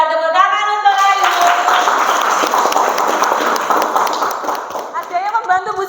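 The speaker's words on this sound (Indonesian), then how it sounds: "tepuk tangan untuk Ayu" Students in a classroom break into brisk, dense applause for a classmate, loud and close for several seconds, with voices chattering at the start and end.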